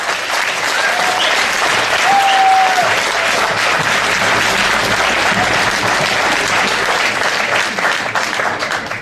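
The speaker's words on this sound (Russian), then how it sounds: "я под ваши бурные аплодисменты приглашаю на эту сцену Брэндона Паттена" A conference audience in Moscow applauds to welcome a speaker onto the stage, with dense, sustained clapping that swells slightly and then tapers off.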